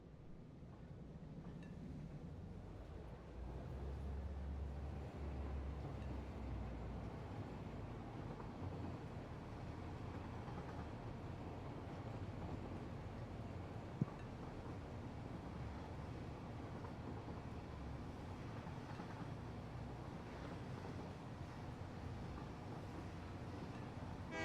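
Steady, low rumbling train ride in the factory-building video game Satisfactory, a continuous droning roll at even loudness throughout with no talking.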